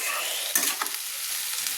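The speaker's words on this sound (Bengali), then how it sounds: "সঙ্গে ভালো করে আমি বাঁধাকপিগুলোকে নেড়ে নিচ্ছি" Cabbage stir-fried in a pan with ginger and ground spices, giving a steady hissing sizzle broken by a couple of quick scraping stirs near the middle.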